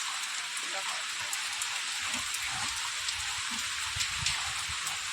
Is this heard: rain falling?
yes